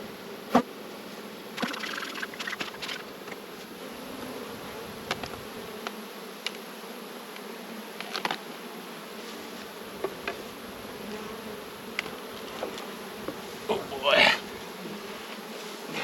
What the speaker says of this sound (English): It's a good looking box of bees.